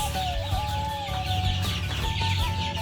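Twenty-two-day-old broiler chickens cluck and chirp together in a close, continuous flock chorus with overlapping calls and no pauses.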